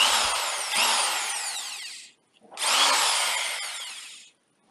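An Evolution belt sander runs in two bursts of about two seconds each, a loud, close whirring grind that fades slightly over each run, with a short silent gap between them.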